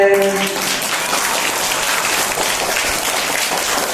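Audience clapping at an Illam Thedi Kalvi folk arts program, a steady dense applause from a crowd filling the whole stretch, with a brief voice at the very start.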